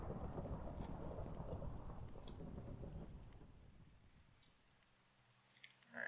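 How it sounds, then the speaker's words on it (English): Hail falls during a thunderstorm in the Minecraft video game, a dense low rumble of thunder and pattering that swells loudly, then fades to a quieter, sparser patter with no talking. "That's hail."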